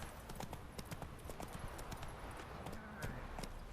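Hooves clip-clop in a quick, steady rhythm as a horse gallops in the Witcher 3: Wild Hunt video game, with faint game ambience and scattered voices in the background.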